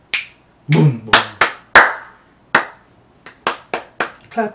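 Hand claps testing sound-activated DJ lights, about a dozen sharp, close claps in uneven bursts, loud and clear with nothing else behind them.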